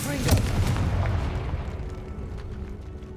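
A Confringo blasting spell fires in the Hogwarts Legacy video game, giving a loud explosive burst near the start that rumbles and fades over the following seconds, with a voice speaking briefly around it.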